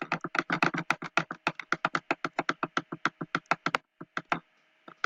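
Rapid, steady computer mouse clicks in a dense run of about thirty sharp taps, close and fairly loud, pausing briefly near the end before a few more clicks, with no voices.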